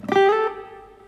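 Acoustic guitar playing a single plucked note with a bright ringing tone and a slight pitch glide, cut short by the string-stopping technique so it dies away quickly; no other sound follows.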